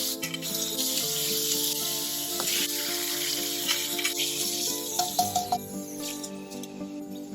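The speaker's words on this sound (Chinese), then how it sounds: "锅内放油，小火先把土豆片煎一下，两面都煎到金黄" Potato slices fry over low heat in oil in a cast-iron pan, giving a steady hiss of sizzling with occasional small pops and crackles near the end, beneath a faint tonal background.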